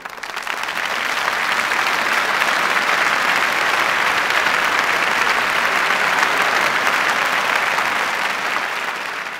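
An audience applauds a children's choir performance, a loud, dense and continuous wall of clapping that swells quickly at the start and holds steady, easing off slightly at the close.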